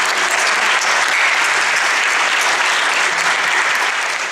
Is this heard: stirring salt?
no